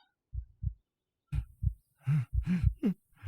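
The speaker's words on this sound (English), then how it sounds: "Are you terrified of the sound of your own heart beating or something?" Faint, slow heartbeat thumps in pairs, separated by silence, then a closer, muffled throbbing with a soft murmur-like whoosh.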